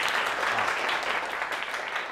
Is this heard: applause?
yes